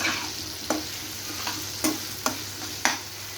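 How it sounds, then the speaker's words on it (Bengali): Potato pieces frying in hot oil seasoned with salt and turmeric give a steady close sizzle, broken by about six sharp scraping stirs at uneven intervals. "আলুগুলো ভেজে নিব"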